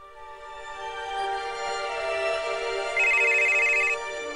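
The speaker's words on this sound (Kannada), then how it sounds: "ಅಯ್ಯೋ, ಅವಾಗಿಂದ ಫೋನ್ ಬಡ್ಕೊಂತಾನೆ ಇದೆ," A telephone rings at home with a steady electronic ringtone, close and fairly loud, and a brighter tone rises on top near the end.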